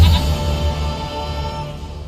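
A goat in the Witcher 3 video game gives a loud, close bleat at the start, followed by a fading, wavering tail and quiet background ambience.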